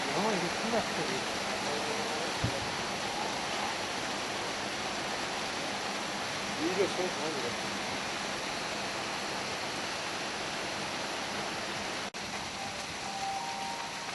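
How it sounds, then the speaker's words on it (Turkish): Girlevik waterfall in Erzincan, partly frozen and iced over in cold winter weather, gives a steady, unbroken rushing roar of falling water throughout, with faint brief voices in the background. "Burası Girlevik Şelalem Şelalesidir."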